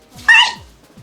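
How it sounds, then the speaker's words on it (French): Dog barking once, a single loud, close bark that rises sharply and fades quickly, alone and with no talk over it. "Chien!"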